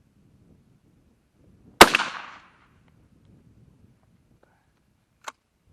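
Shotgun fitted with a Patternmaster Anaconda choke tube fires a single loud, close blast with a short decaying tail, followed by quiet and a faint click.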